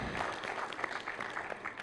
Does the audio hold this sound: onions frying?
no